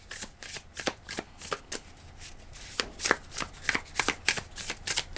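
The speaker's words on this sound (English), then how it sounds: "Okay, I'm gonna pull cards for the other energies around you" Tarot cards shuffled by hand in a quiet room, a run of quick riffling bursts and soft flicks repeating in an uneven rhythm, close and alone with no talk.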